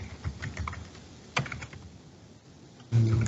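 Computer keyboard typing during document formatting, a few quick clusters of light key clicks with a pause, then a louder thump near the end, no speech.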